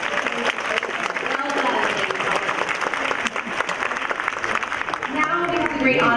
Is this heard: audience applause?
yes